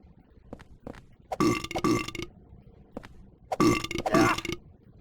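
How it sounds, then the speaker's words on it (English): Nurse enemies in the hospital world of the video game Silent Hill 4 let out loud, gurgling burps after taking damage, two pairs of belches separated by short pauses with faint clinks between. "these nurse enemies at the hospital world, who make these burps after taking damage"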